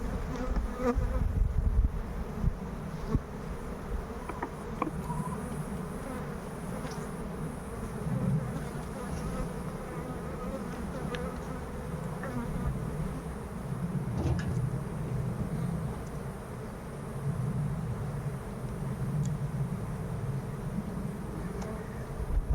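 Honey bees swarm and buzz around an open beehive as honeycomb frames are set back into the hive, a dense, steady drone that fills the whole stretch, close and continuous, with occasional faint bumps and no speech.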